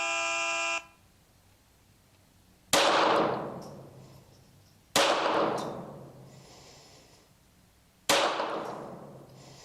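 Three sharp pistol shots ring out at an outdoor shooting range, spaced a couple of seconds apart, each with a long echoing decay, after a brief electronic beep at the start.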